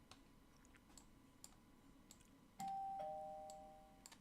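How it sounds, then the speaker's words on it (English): A trading bot's doorbell alert chimes once, a clear two-tone ding-dong ringing out and decaying over a quiet room with faint keyboard clicks. "If you hear a doorbell like that, that means my TCS system took a trade"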